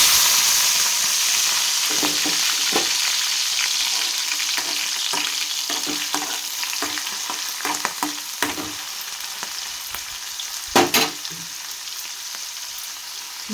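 Raw prawns sizzle and fry in a pan for a Telugu drumstick-leaf prawn fry curry, a steady bright hiss with intermittent stirring scrapes and clatters, one louder clack near the end, no voices.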